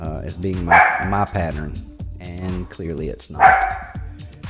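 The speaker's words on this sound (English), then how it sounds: "Barking, that's the dog barking." A dog barks in sharp repeated bursts at close range while a person keeps talking over the barks.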